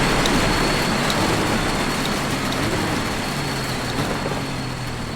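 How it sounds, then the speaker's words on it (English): Rain drumming on a race car windshield in the iRacing sim, a loud, dense, continuous hiss over a low engine drone with no voices. "You can hear the rain picking up on the windshield."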